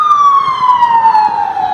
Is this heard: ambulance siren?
yes